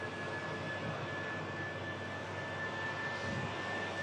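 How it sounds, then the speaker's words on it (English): A British Airways shuttle jet spools up at Manchester Airport, a distant, fairly faint engine roar with a thin steady whine running through it. "we also have the British Airways shuttle service now on the spool up"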